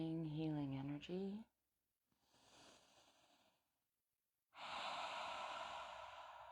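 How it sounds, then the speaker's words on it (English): Slow, calming breaths let out during a guided stress-release exercise: a voice speaks at the start, then a soft, long exhale follows, a pause, and a stronger, sustained breathy rush that lasts to the end, close and fairly loud. "Just breathing out"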